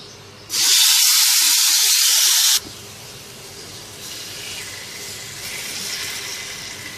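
Marinated mutton chops hit an oiled grill pan over low-to-medium flame with a loud burst of sizzling hiss lasting about two seconds, then a softer ongoing crackle.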